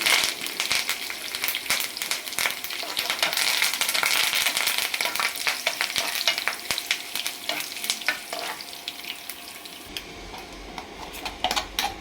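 Curry leaves crackle and spit in hot oil for a tempering over split chickpeas and black gram, a dense loud sizzle with sharp pops, ending in a steadier quieter fry.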